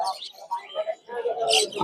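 Caged birds, including lovebirds and parrots, calling at a busy bird market, with quick chirps and tweets in short bursts close by, mixed with brief background voices.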